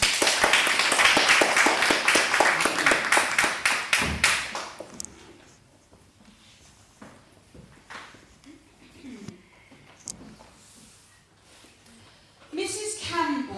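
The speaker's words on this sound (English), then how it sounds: "Give a round of applause for the actors." A short round of applause for the actors at a speaker's club event: a few seconds of brisk, rhythmic clapping from a small audience, then a quieter stretch of scattered taps, thumps and room noise, with a burst of louder activity near the end.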